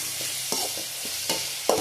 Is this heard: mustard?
yes